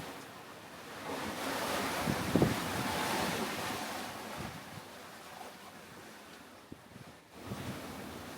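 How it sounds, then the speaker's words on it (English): Short, steep ocean waves in a rough, angry sea surge and wash around a sailboat, with wind buffeting the microphone and a sharper splash or slap partway through. "So that means the waves were short and steep. These are steep."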